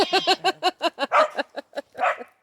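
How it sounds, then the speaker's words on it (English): Dog, a PTSD service dog, barking in a quick run of sharp, close barks, about a dozen in a row, ending in a longer whine-like yelp. "Chloe needs payment for her PTSD service dog work"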